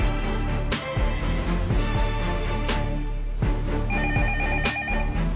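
A telephone rings loudly and insistently in repeated electronic trills that fill the whole stretch, heard alone without any talking.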